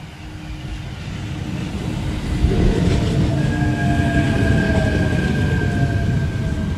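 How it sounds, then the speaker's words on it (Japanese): A train arrives at Furuma station, a steady loud rumble building as it pulls in, with a faint squeal of brakes and wheels near the end and no talk. "電車が来ますね。"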